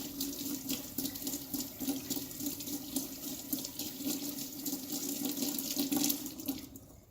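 Cold water runs steadily from a sink faucet, a constant close splashing hiss that continues alone for several seconds before easing off at the end.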